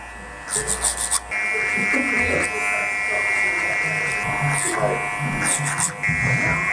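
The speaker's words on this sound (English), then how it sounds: "now just using big clipper comb, blending it in to that point where we level it right off here" Electric hair clippers with a large clipper comb attachment buzz steadily and close while blending a disconnected fade haircut, with brief pauses and muffled handling noise and soft talk beneath.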